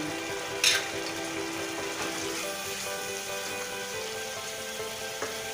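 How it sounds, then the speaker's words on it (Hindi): Minced keema with ground garam masala frying in a pan, a steady close sizzle and crackle with one brief sharp clink near the start and a faint tap near the end. "इसको अच्छे से भून लें।"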